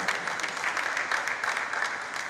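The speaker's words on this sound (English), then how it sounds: "please let's give PCO Abari a round of applause" An audience applauds after a panel talk at a pest control association seminar, a continuous even patter of many hands clapping at moderate distance, with no pause.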